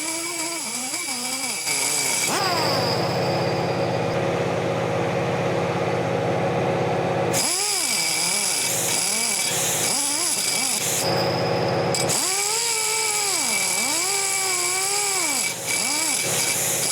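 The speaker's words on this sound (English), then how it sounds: "the little 3-inch disc on an air grinder or air motor" An air grinder fitted with a small 3-inch disc runs loud and steady, its pitch rising and falling as it bears on the work, with a pause and a shift in tone partway through, and a compressor hum beneath it.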